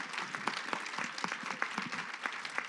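Dense applause from a large audience at the opening of a women's conference in Paris, steady crackling clapping, somewhat distant and even, with no voices heard.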